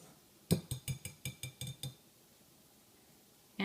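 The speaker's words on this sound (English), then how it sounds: "So I'll just whisk those together" A whisk clinks rapidly against a bowl while mixing flour, salt and baking soda, about eight quick rhythmic taps in a short burst, then quiet, with no voice.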